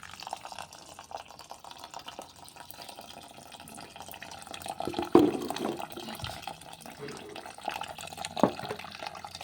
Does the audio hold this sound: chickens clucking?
no